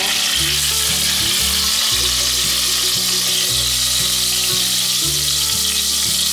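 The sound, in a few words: bitter gourd pan-frying in oil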